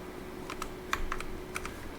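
Typing on a computer keyboard: a handful of quick, crisp key clicks in an irregular burst of about six taps over two seconds, close and moderately quiet over a faint steady hum.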